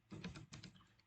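Quick keystrokes on a computer keyboard, a short run of soft close clicks with no speech.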